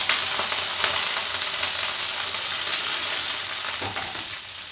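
Chillies, onion and spices frying in a pan for chicken 65, a steady close hiss and crackle of oil with occasional soft scrapes, no voices.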